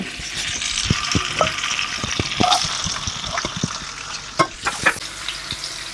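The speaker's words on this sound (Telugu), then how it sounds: "ప్యాన్లో కొద్దిగా ఆయిల్ పోసుకోండి కొద్దిగా వేడెక్కనివ్వండి ఆనియన్స్ వేసుకోండి" Onions fry in a little hot oil in a pan, giving a steady sizzle broken by scattered crackles, pops and stirring scrapes, close up with no talking.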